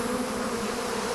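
A defensive swarm of African honeybees buzzes close and loud, a dense, continuous drone with no other sounds over it.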